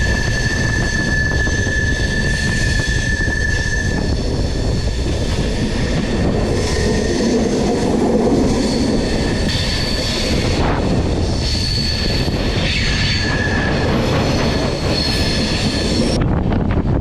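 The Chennai Mangalore Super Fast express train running at speed, a loud, continuous rumble of wheels on rails with a steady high-pitched squeal early on and brief clattering passages, with no voices.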